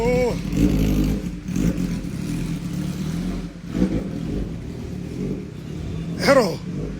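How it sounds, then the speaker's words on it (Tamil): A Yamaha R15-engined motorcycle revs close by in short bursts, one near the start and a sharp rising rev near the end, with a low idle running in between under someone talking. "R15 இன்ஜின் தானே இதுக்கு? செமையா இருக்குல்ல வண்டி?"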